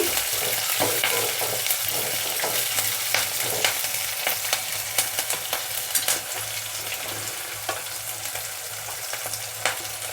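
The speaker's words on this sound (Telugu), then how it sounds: "కరివేపాకు కొద్దిగా ఫ్రై కానిద్దాము పచ్చివాసన పోయేదాకా" Curry leaves fry in oil in a pan, giving a steady, loud crackle dotted with frequent sharp pops and spits that continue throughout, with no voices.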